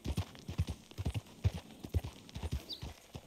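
Rhythmic hoof clip-clops from a horse in Red Dead Redemption 2, steady and fairly close, with a soft ambient background and no talking.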